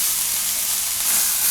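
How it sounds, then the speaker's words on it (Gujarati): Onions fry in oil for a cheese onion paratha, a dense continuous sizzle heard close up over a brief moment, swelling slightly toward the end as they are stirred. "થોડીક વાર આને પકાવી લેવું, વચ્ચે વચ્ચે હલાવતા રહેવું."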